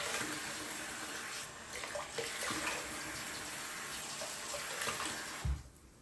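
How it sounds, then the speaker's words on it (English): Tap water runs steadily into a cup at a sink, a continuous moderate splash that ends with a short gush as the cup is emptied. "And that's just filling it up with water and dumping it."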